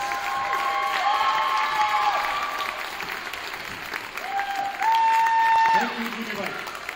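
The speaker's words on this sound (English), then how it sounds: "Let's give them all a round of applause." An audience in a school gym applauds and cheers at a varsity girls basketball game, clapping steadily, while an announcer's amplified voice speaks over it.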